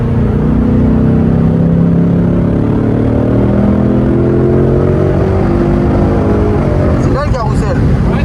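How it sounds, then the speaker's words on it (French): Ferrari engine roaring at the Nürburgring, a loud, sustained note with rising and falling revs close by, shifting pitch through gear changes near the end. "Elle doit faire juste un bruit exceptionnel,"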